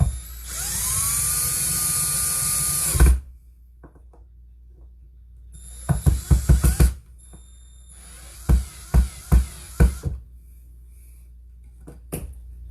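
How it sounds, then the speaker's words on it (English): A power drill bores into a wooden board, first one sustained high whine that stops abruptly, then after a quiet gap several short bursts of drilling in quick succession, near and alone without speech. "you don't want to drill too close to the sides and split the board"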